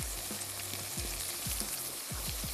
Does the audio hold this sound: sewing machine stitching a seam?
no